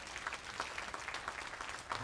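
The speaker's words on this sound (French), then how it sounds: "un applaudissement encore" A church congregation claps steadily during a French-language worship service, a dense run of close, overlapping handclaps with no voices over it.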